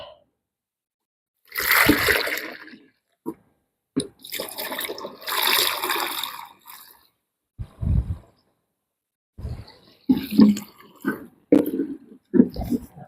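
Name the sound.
water filling a sprayer tank to 10 litres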